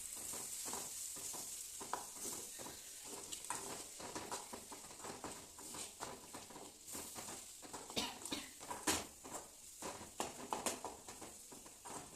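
Onion curry with spices being stirred in a pan, with a steady frying sizzle and repeated scraping, clattering stirs of a spoon throughout, fairly close and continuous, no talking.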